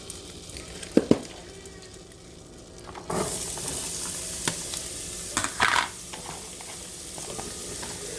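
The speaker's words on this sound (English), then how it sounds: "I'm going to cook these until the onions are translucent" Onions and celery sizzle steadily in melted butter in a hot pan, with a few clinks and stirring scrapes from utensils.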